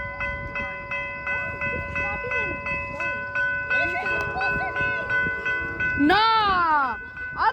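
A train passes in Merced, California, its sustained multi-tone horn holding steady while people talk and shout nearby, with a rising, bending tone near the end.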